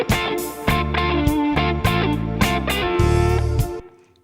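Electric guitar in an edge-of-breakup tone, neither clean nor distorted, playing a solo phrase with double stops that bite harder when struck, several sustained notes and bends in steady succession, loud and alone.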